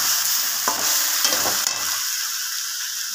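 Food stirred and fried in a hot pan, a dense sizzle with scraping strokes of the spoon in the first half, then settling into a steadier, quieter hiss.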